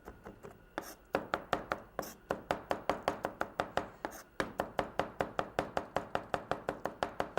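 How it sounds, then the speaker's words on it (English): Rapid, steady knife chopping of garlic on a cutting board, dozens of crisp close taps in an even rhythm with brief pauses. "you get your garlic, cut that nice and small"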